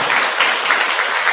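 A temple congregation at a Buddhist service gives a burst of loud, dense applause, a continuous crackling wash of many hands clapping together.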